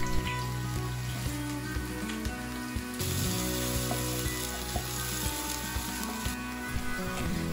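Chopped onions frying in oil in a pan for mattar paneer, a steady close sizzle and crackle with occasional popping and a brief stir partway through.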